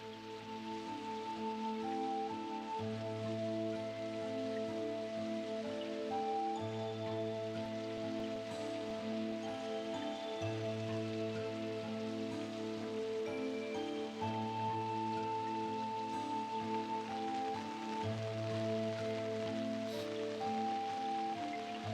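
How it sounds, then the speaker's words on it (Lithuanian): Heavy rain pours without pause, a dense, steady rush of drops spattering on surfaces, with a soft musical melody playing over it throughout. "Lietus nesustodamas pliaupė nuo pat pietų."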